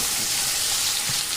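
Chopped pointed gourd dropped into shrimp frying in hot oil, giving a steady, dense, close sizzle that holds evenly throughout the brief moment, with no voices.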